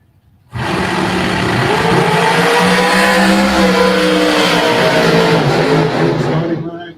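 A dragster from Hazelhurst, Georgia roars off the line at a drag race, a loud sustained engine blast with harmonic whine rising and holding for about six seconds before easing off.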